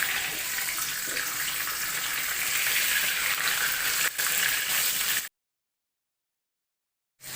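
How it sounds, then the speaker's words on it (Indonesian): Tofu fries in a pan, a continuous bright sizzle and crackle that stops abruptly for about two seconds and then resumes. "lalu goreng hingga tahu matang"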